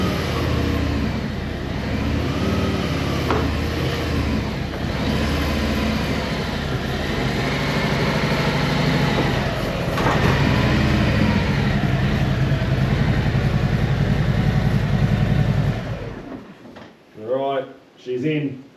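A motorcycle engine idles and runs close by as the bike is brought indoors, a steady throbbing drone that swells midway, then cuts off, leaving brief voices.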